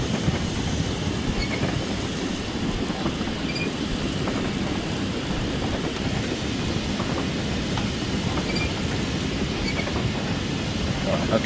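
Peppercorn K1 steam locomotive running on the Kelvin and Blane Valley line in Train Simulator, a steady dense rumble and hiss of the engine at work, continuous and fairly loud throughout with no break.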